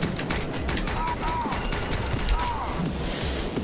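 Dense gunfire in the John Wick commute simulator video game, a steady fusillade of shots rattling throughout with a loud, busy game soundscape and no talking.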